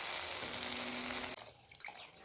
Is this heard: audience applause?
no